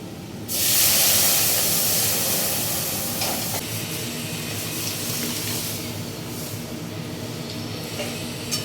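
Dal tempering with spices dropped into hot oil after onions are fried reddish, a loud burst of hissing sizzle that flares up at once, then settles into a steady, slightly softer frying hiss that carries on throughout.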